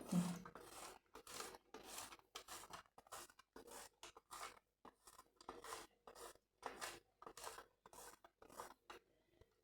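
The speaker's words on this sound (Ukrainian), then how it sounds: "Тепер беремо тісто наше темне з мороз. Так, і затираємо його на крупну терть." Half-frozen dark cake dough is rubbed over a coarse grater in a series of close, rhythmic rasping strokes, about a dozen short scrapes with brief pauses between them.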